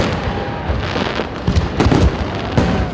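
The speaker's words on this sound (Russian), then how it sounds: "Завершился праздник красочным салютом." Fireworks burst over a city festival at the close of a big concert, a dense run of booming pops and crackles that swell and peak loudly near the end, with no talk over them.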